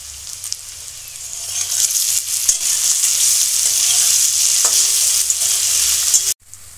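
Garlic cloves added to potatoes already frying in a pan hiss and sizzle loudly and steadily up close, with faint stirring scrapes, before the sound cuts off abruptly near the end.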